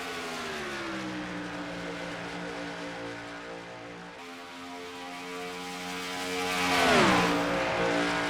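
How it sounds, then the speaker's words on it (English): Race trucks in a Darlington truck-series race in a racing video game, engines droning steadily with rising pitch as they close on the leaders, swelling louder and sweeping past near the end, with faint tire squeal. "And you have those 5 trucks, and maybe 6 if you want to count Jesse Turner, all closing in on the front 2"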